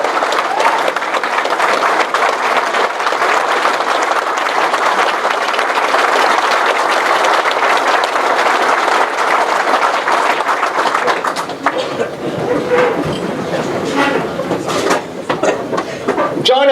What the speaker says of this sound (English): Why don't we stand and give these representatives a round of applause?